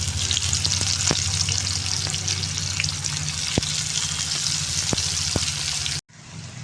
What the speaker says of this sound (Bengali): তো এখানে দেখো আমার পেঁয়াজটা ভাজা ভাজা হয়ে গেছে